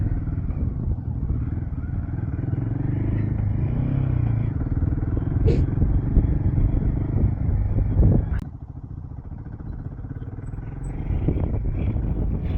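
A Royal Enfield Himalayan 450 motorcycle rides off-road on a dirt track, its engine droning steadily and close with rattles and a sharp knock, the rumble easing briefly before building again.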